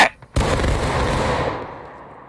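A musket volley in War of Rights erupts in one loud, ragged burst of many shots close by, rolling out into a long fading rumble.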